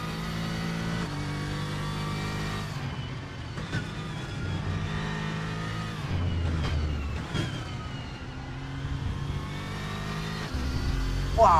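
A GT3 race car engine in the RaceRoom racing video game revs and climbs through the gears, loud and close, its harmonic whine rising and dropping with several shifts, steady throughout.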